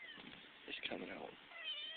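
A domestic cat meows close to the microphone in a home workshop where a siren's bearing brushes are being taken apart, giving a few drawn-out, rising and falling cries over faint background noise.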